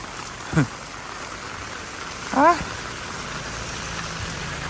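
Rain falls steadily in Korea, a soft even hiss of drops on surfaces filling the background while someone speaks briefly twice over it.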